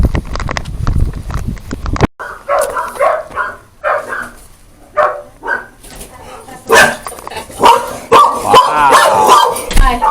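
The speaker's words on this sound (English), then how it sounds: "So you don't need a gun, you got a dog." A dog barks repeatedly, close by and loud, in sharp bursts, while people talk over and between the barks.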